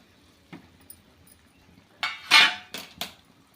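A pot lid is lifted off a pot of boiling salted water with a couple of sharp metallic clanks and a clink, after a mostly quiet moment with one soft knock.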